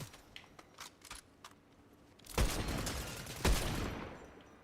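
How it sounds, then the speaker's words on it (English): Sniper rifle fire in a video game, two loud booming shots about a second apart with lingering echo tails, after a stretch of quieter clicks and small taps. "Guess we'll do our sniper practice"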